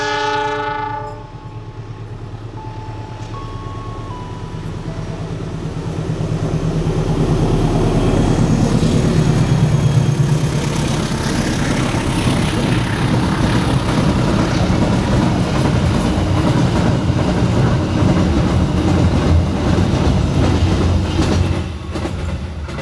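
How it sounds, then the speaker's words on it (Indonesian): A train horn sounds, then a long rumbling freight train passes close by on an Indonesian railway line, steady clattering of wheels filling the air without letup. "setelah kereta api barangnya berjalan langsung"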